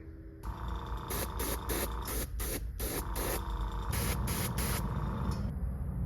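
Spray paint hissing on in short, rhythmic bursts as orange accents go onto a hand-carved fishing lure, about a dozen quick sprays close to the can with brief gaps between.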